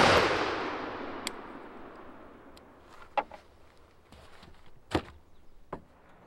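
A BRN-180 rifle chambered in 7.62x39 fires from a bench at about 15 yards, starting with a loud report that rings out and fades, then several sharp, irregularly spaced shots.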